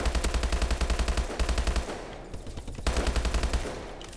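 Rapid automatic gunfire from the shooter game Advanced Warfare, loud and close, in steady bursts with a brief pause before firing resumes in the final seconds.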